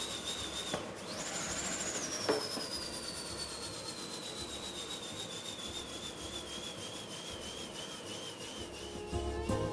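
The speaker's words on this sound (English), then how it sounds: "The quarter makes the coolest sound." A quarter spinning inside an inflated balloon gives a continuous whirring, rattling hum that rings steadily and slowly falls in pitch, with a couple of brief bumps near the start.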